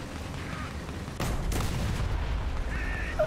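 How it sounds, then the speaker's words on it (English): Gunfire and heavy impacts in the tank battle game War Thunder, a couple of sharp bursts around the middle over a constant engine rumble, no talking. "Don't you use your machine gun on me"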